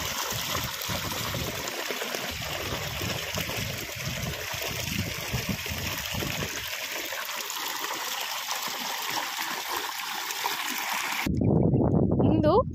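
Water gushes from a pipe into livestock troughs on a farm with cows and sheep, a continuous splashing, trickling flow close by with a person talking over it, then a louder burst of splashing at the end.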